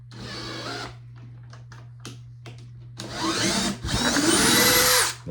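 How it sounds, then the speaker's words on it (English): A power drill whirs in bursts while its bit spins in a hole to clear out debris, several short revving pulses followed by longer, louder grinding runs close by. "I like to get it to where the drill will spin freely in the hole."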